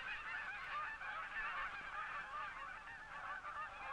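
A flock of Canada geese honks steadily during their fall migration flight, the many overlapping calls forming a dense, continuous chorus at moderate loudness with no pauses.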